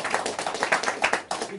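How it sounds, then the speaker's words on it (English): Audience applause breaks out in a room, a dense, steady patter of many hands clapping at close-to-mid distance for a short burst, with no speech over it. "can you give him a round of applause?"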